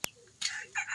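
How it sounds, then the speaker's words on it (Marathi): A free-range village rooster gives short clucking calls, a sharp click at the start followed by bursts of bright, close clucks near the end, with no talk. "हा बघा प्युअर गावरान कोंबडा"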